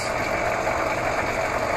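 A secondhand metalworking lathe hums along steadily with its motor running and gears churning, a continuous close mechanical drone with no speech over it.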